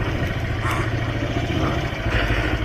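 A motorcycle engine idling as the bike is parked in a narrow lane, a steady close low rumble throughout with no voices.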